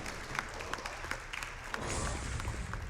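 Audience applause breaks out after a difficult jump during a live Star Wars Jedi Knight II: Jedi Outcast speedrun at a gaming marathon event, a steady wash of clapping that swells louder in the second half.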